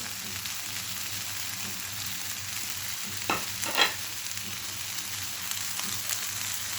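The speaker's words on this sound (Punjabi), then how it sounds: "ਇਸ ਤਰ੍ਹਾਂ ਹੁਣ ਅਸੀਂ ਫੇਰ ਤੋਂ ਅਲਟ ਪਲਟ ਕਰ ਦਾਂਗੇ ਇਹਨਾਂ ਨੂੰ" Eggplant and onions fry in a pan with a faint steady sizzle, broken midway by a couple of quick scraping stirs close by.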